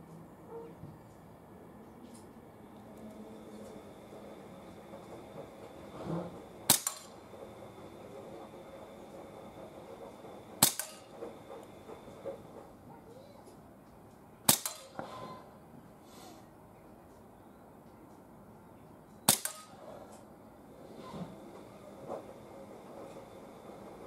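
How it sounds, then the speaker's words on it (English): Four sharp cracks from a Sig Sauer P226 X5 BB pistol fired freestanding with a laser, spaced a few seconds apart over a steady low background hum, with no talking. "So first 8 shots with a laser freestanding."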